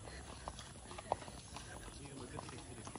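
A horse's hooves clip-clop in a park in Malaybalay, with faint, irregular knocks under outdoor ambience and distant voices.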